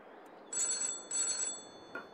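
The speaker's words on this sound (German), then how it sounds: "Mein Herr Breit anrufen" A phone rings while placing a call in the video game Farming Simulator 22, two clear electronic rings in quick succession, followed by a brief click, quiet and alone.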